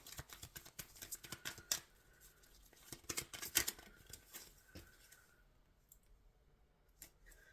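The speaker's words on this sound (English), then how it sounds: "can I have a couple more cards here?" Tarot cards shuffled and drawn at a reading table, a quick patter of close, soft card clicks and flicks in bursts, then slowing to a few isolated snaps.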